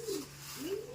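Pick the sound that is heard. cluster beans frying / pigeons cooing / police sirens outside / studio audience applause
pigeons cooing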